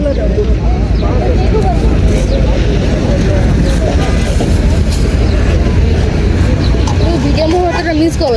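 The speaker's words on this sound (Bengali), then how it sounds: "মেট্রো রেল চলে আসছে।" A metro rail train pulls into a station, a loud, steady, close rumble filling the whole stretch while people talk over it.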